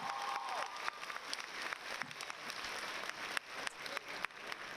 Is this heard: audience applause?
yes